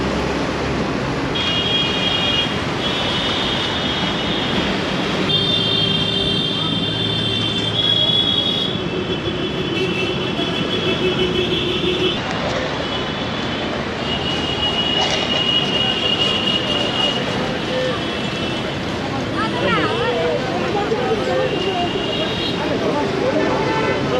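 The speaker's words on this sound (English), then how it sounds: "Over here is the Howrah railway station" Trains at Howrah railway station in Kolkata, with rumbling carriages and high wheel squeal running steadily through busy station ambience, while a person talks over it.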